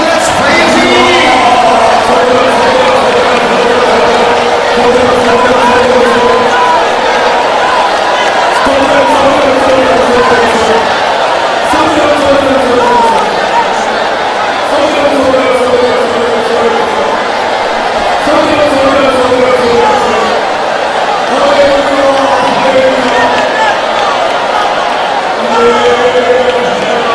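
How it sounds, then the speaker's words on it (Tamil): A church congregation at a Pentecostal morning praise service lifts many voices together in loud, sustained communal praise, a dense crowd of singing and calling filling the room steadily throughout. "With the loud voice, let's praise him."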